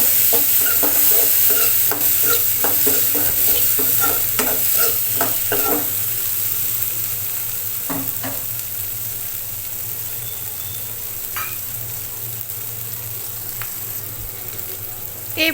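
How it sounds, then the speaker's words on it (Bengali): A ground spice paste is stirred with oil and potatoes for a raw jackfruit curry, giving a steady low sizzle under repeated scraping and tapping strokes of a spoon against the pan, which slow and thin out later. "বাটা মশলাটাকে মশলা এবং তেল এবং আলুর সঙ্গে ভালোভাবে মিশিয়ে নেব"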